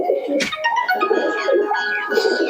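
Giribaz and Matraj pigeons cooing nearby in short rolling phrases, with a brief sharp click near the start and a faint high tone in the background.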